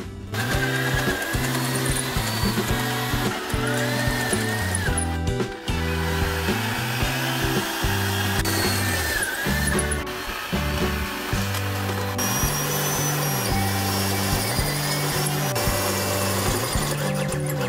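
A power drill with a large bit bores into the steel pitman arm of a Jeep TJ, a loud, steady motor whine broken by repeated stuttering changes in pitch as the bit bites, lasting throughout with no talk.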